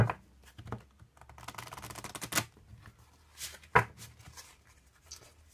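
Tarot cards being shuffled by hand for a reading: a rapid riffling flutter of card edges in a burst, followed by scattered slaps and snaps of single cards, close and fairly quiet, with no talking.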